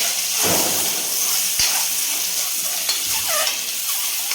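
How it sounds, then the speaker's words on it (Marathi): Eggs fry in hot oil with chili powder and salt, giving a continuous close sizzle and hiss broken by a few sharp clinks and spatters as they are turned. "अंड्याचा कलर सोनेरी होईपर्यंत आपल्याला याला परतून घ्यायचे अंडे या तेलावर"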